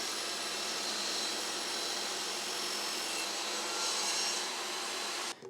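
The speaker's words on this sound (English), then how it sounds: "I'm just gonna try to trim this piece of plywood until I get a really nice" A table saw with a mitre-gauge sled trims a piece of plywood, giving a steady loud whirring roar that runs unbroken before cutting off abruptly at the end.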